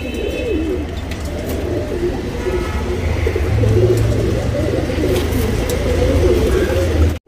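Makshi and Dhooma breed pigeons cooing steadily in a loft, soft repeated low coos layered over a constant murmur of background noise, close and fairly loud.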